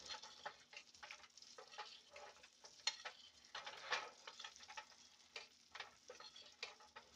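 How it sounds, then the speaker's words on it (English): Filet mignon basted with herb and garlic butter in a pan, spoonfuls of hot butter crackling in repeated sizzling bursts over a quiet background, with no talking. "And this is what's called basting."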